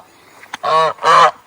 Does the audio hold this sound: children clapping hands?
no